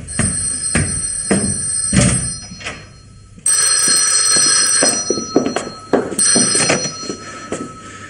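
A telephone bell rings in repeated bursts indoors, with people talking over and between the rings.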